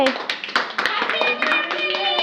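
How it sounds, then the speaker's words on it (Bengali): A few sharp hand claps from people at a family wedding-anniversary surprise celebration, ringing out over steady talking and background sound across a couple of seconds. "হাততালি দে"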